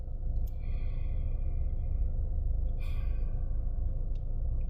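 A person takes slow, deep breaths, two airy inhales or exhales about two seconds apart over a low, constant background rumble, soft and close.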